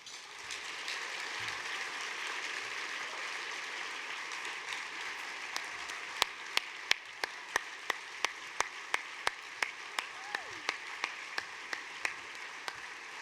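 An evening audience applauds to welcome a patient ambassador at a rare-disease charity event: a steady wash of many hands clapping for about thirteen seconds, with sharper individual claps standing out near the end.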